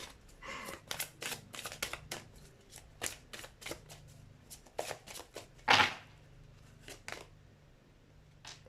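Tarot cards shuffled by hand in quick, irregular bursts of crisp riffling and slapping, close by over a faint low hum, with one louder slap near the end.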